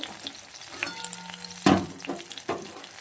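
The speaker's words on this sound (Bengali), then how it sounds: "এটা এবার মুচমুচে করে ভাজবো" Fritters in a rice-flour batter with chili powder and salt fry crisp in hot oil. The sizzle is close and steady, with irregular pops and one louder splash-like crackle midway.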